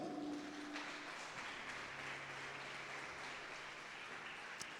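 Congregation applause for the Lord during a church service, a soft, diffuse wash of many hands clapping at a distance that holds steady throughout, with faint tonal murmurs underneath.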